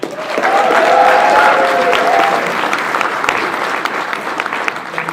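Loud, sustained applause from a big comic-convention panel audience, many hands clapping densely and close, with a brief cheer near the start before settling into an even roar.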